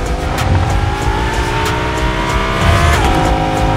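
Car engine in a video game, a loud steady drone with rising and falling pitch that holds throughout, with brief tire squeal at moments and no talking over it.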